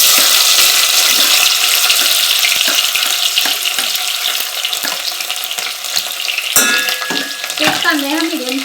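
Onion hits plenty of hot oil for an egg curry tempering, giving a loud, dense, continuous sizzle up close, with stirring noises and a brief clatter near the end.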